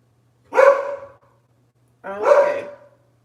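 A dog gives two separate, fairly loud barks about a second and a half apart, each a short woofing bark that tails off, with silence between them.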